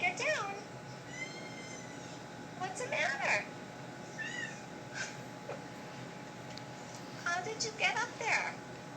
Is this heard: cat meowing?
yes